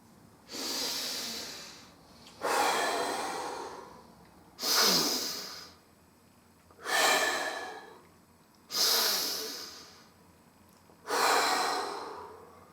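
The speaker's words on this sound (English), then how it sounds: "I came up with a breathing technique to alleviate stress." A person demonstrates a stress-relieving breathing technique: six long, loud breaths, each a forceful airy rush through the nose or mouth, repeated in an even rhythm with short quiet gaps between them.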